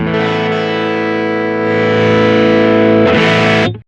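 Heavily distorted guitar through a Boss GR-D hex fuzz sustains one long, dense chord with its gain turned, swelling slightly in loudness, followed by a brief restrike before cutting to silence.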